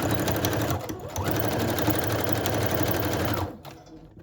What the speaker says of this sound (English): these thicker appliques are a little trickier to sew, but I know it will work, so gotta go kind of fast